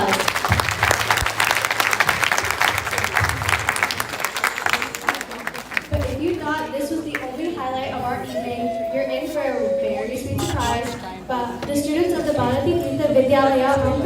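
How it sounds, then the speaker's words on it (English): Applause from an annual day audience for students' recitation, a full, steady round of clapping for the first six seconds, then fading under a voice and crowd murmur. "They deserve another round of applause."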